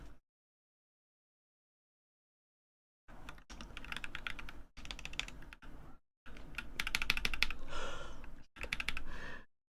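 Keys clack in fast bursts on an NK65 mechanical keyboard fitted with swapped switches, close and crisp, with short pauses between runs of typing after a quiet start.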